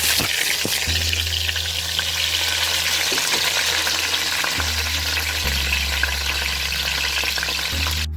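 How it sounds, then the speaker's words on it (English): Whole bay leaves, cinnamon sticks, cardamom pods and star anise sizzling in hot oil in a pot, a steady close crackle with occasional stirring clatter and no talk. "Now I'm going to add 2 bay leaves, 2 sticks of cinnamon, about 6 cardamoms and star anise. So in they go into the hot oil."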